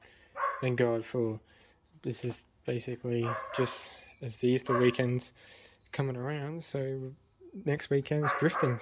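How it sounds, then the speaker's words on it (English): A neighbour's dog barks in the background next door, in scattered bursts heard beneath someone talking steadily up close in a home garage workshop. "sorry about the dog in the background"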